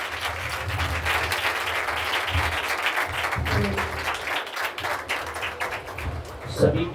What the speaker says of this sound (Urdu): آپ سب کی زوردار تالیوں میں ویلکم کہتے ہیں